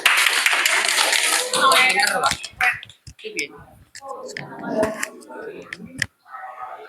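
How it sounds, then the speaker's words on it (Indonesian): A classroom of students clapping for a group, a loud burst of many hands that thins into scattered claps and taps, with voices and chatter breaking in between. "Tepuk tangan untuk kelompok 1."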